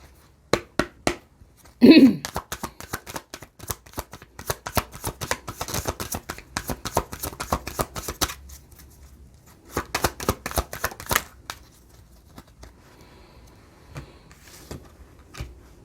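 Oracle cards being shuffled and drawn from the deck, producing dense rapid riffling flutters in bursts with soft taps between them, close to the listener.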